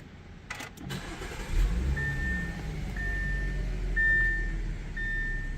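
A 2014 Audi A6 engine cranks briefly and catches, then settles into a steady, fairly quiet idle close by, with a faint recurring electronic tone and no talking; a transmission cooler valve check engine light is on.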